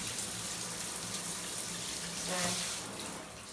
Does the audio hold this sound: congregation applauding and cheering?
no